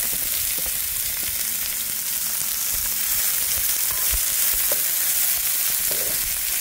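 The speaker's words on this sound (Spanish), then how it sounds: "Es el turno del sartén, ahí lo tenemos colocando ya la cebolla. Y ahí viene el picante." Chopped onion and hot chili fry in a skillet with a loud, steady, unbroken sizzle up close, and a few soft scrapes and pops come through it.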